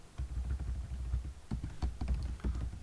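Python code is typed on a computer keyboard in quick, uneven bursts of close, soft key clicks, with a short pause near the middle and no talking.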